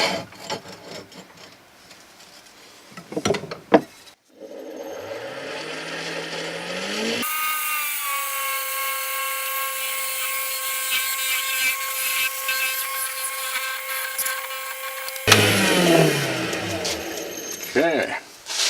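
A wood lathe parts off a wooden pizza cutter handle, a steady high whirring cut with strong tonal ringing that holds for several seconds between rougher scraping and rubbing of the turning wood.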